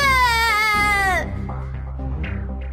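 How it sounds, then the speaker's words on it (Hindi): A cartoon baby girl cries loudly in a rising, wavering wail that breaks off after about a second, followed by softer whimpering sobs under a low background hum. "पालने में रखते ही बच्ची जोर जोर से रोने लगी"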